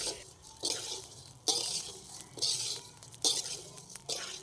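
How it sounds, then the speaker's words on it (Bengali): Rhythmic scraping and stirring in a pan with soft sizzling as rice is fried with cashews and raisins for pulao, repeated strokes every second or so, close by and fairly quiet. "কাজু কিশমিশ দেওয়ার পর আবারও 2 মিনিট মতো ভেজে নিয়েছি"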